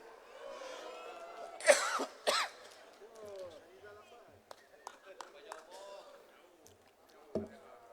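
A couple of sharp coughs burst out near the start over someone speaking at a podium at an UMNO general assembly, then speech continues with a brief cough near the end.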